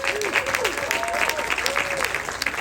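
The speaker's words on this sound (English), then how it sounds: "Kevin deserves an extra round of applause" Audience clapping at the Long Island International Film Expo awards ceremony, a sustained round of applause from a crowd with a voice speaking over it.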